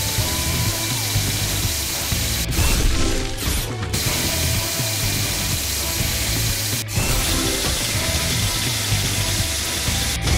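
A drill in the video game Paw Patrol: The Movie makes a continuous mechanical ratcheting, grinding drone that runs steadily for the whole stretch, with a couple of brief sharp breaks in the texture.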